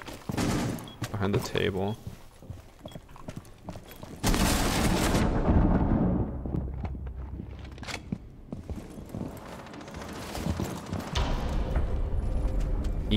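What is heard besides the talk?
LMG-E gunfire in the video game Rainbow Six Siege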